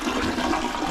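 Water rushes steadily from a newly plumbed bathroom fixture, a loud, continuous hiss of flow with no break, close to the listener.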